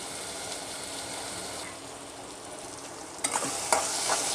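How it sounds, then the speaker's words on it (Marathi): Masala for dry chicken masala sautéing in a pan with cooked tomato, a steady soft sizzle up close, with a couple of sharper stirring scrapes near the end. "मसाला व्यवस्थित परतून घेऊया आपण"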